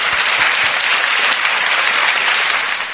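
An audience gives a round of applause for Oten, a dense, even wash of clapping that holds strong and close for the whole stretch, with a few sharper claps standing out.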